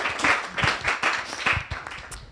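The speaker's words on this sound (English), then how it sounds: "Applause for Harry." Audience applause for a speaker at a film discussion event, a moderate burst of clapping with uneven rhythmic peaks that holds steady throughout.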